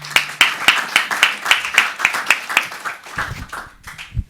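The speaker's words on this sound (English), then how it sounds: "We can applaud him again." A small audience claps for a student speaker: a short burst of distinct, fairly regular hand claps that thins out and stops after about three seconds, followed by faint room noise.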